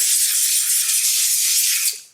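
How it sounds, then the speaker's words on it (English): Olive oil cooking spray, a supermarket home-brand can, hissing steadily as it coats a surface for cooking chicken nuggets; a single close, continuous spray lasting about two seconds before cutting off. "I'll give her a little spray with home brand, Woolies brand olive oil, just to reduce the stick"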